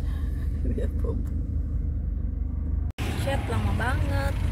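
Traffic jam caused by a car accident, heard from inside a car, with a constant low engine and road rumble that is muffled and steady, and people talking over it.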